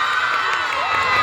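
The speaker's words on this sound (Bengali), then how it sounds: "তো জোরে হাততালি হোক," A loud crowd at a stage event in Tarakeswar for actress Debolina Nandi cheers and shouts in one dense, close burst that holds for the whole moment with no pause.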